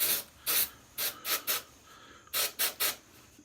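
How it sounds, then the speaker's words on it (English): Remington Shave Saver lubricant sprayed onto hair clippers in short hissing bursts: two quick sprays, a pair, a single, then a close run of three, each crisp and near with quiet gaps between. "I've got this stuff from Remington called Shave Saver, and I will spray that"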